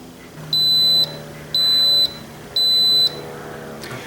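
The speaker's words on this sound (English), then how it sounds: "And now you press yogurt. It's going to beep in a second." An Instant Pot on its yogurt setting gives three evenly spaced, loud electronic beeps, each about half a second long, with a faint low hum in the background.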